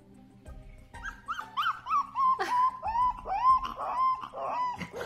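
A small dog whimpers and whines in a series of high, wavering cries, with short pauses between them, fairly close and clear.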